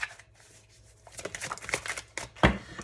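Tarot cards are shuffled by hand in a series of soft, irregular riffles and slaps, with faint scattered card noises at first and then busier, louder shuffling toward the end.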